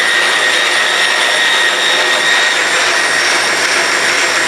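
A blade on a 480i vacuum test-cut rig cuts through 3/16 inch of plastic, giving a loud, continuous, close machine roar with a high whine that holds steady throughout, without speech.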